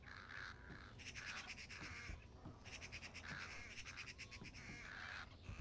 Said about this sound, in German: Oh Gott, ich sehe Vögel.